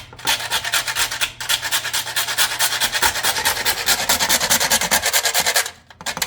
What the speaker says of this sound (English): I'm putting in some cinnamon stick or spice. And try to grate this up.